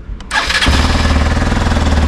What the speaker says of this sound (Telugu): స్టార్ట్ చేయాలి బైక్.